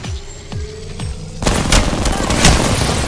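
Video game gunfire starts with a few spaced single shots, then erupts into a loud sustained barrage of rapid fire and blasts for the remaining seconds.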